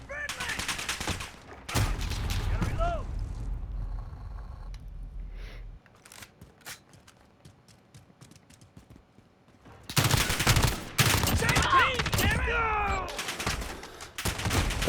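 Kilo 141 (ACR) assault rifle from Call of Duty Modern Warfare firing in loud, close bursts at the start and again near the end, with a quieter stretch in between and someone talking over it.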